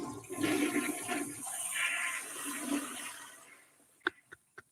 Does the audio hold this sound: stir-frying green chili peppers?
no